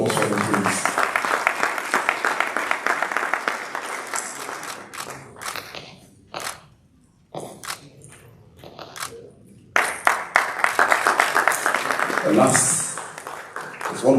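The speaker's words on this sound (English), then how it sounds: "A round of applause for him, please." An audience at a formal launch of an entrepreneurship scheme applauds in bursts, clapping loudly with brief lulls and voices mixed in.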